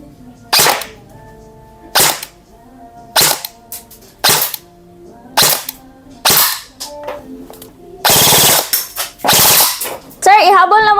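Bursts of an LT 29 Proline Gen2 airsoft AEG firing on full auto: several sharp, loud volleys spaced about a second apart, then a longer sustained burst near the end, with a faint voice in the background.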